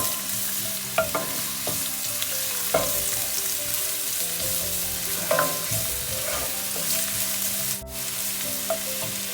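Carrots sizzle and fry in a hot pan for restaurant-style mixed fried rice, with steady crackling and several scraping stirs of a spatula across the surface.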